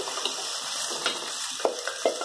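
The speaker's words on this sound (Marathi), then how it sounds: "आता आपण पुरणचं पाणी काढलेलं, डाळीतलं पाणी काढलेलं घालून घेऊया" Water drained from cooked lentils is poured into roasted masala in a pan for katachi amti: a steady soft gush with a few bubbling splashes, close and continuous throughout.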